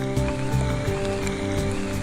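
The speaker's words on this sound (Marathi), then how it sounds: "तर पाऊस आहे" Monsoon rain falls on a rough road beneath a tunnel of trees near a waterfall, a steady close patter with scattered drop impacts over a continuous low hum.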